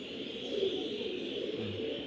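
A racing pigeon coos softly and steadily while being stamped before a flying competition, nearby and alone with no talk.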